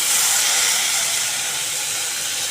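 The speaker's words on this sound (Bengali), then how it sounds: "এই ফোড়নের মধ্যে এখন ডালটা দিয়ে দেব" Raw mung dal hits hot mustard oil tempered with fennel seeds and dried red chillies for a bottle gourd dish, giving a loud, continuous hissing sizzle that eases slightly as it goes on.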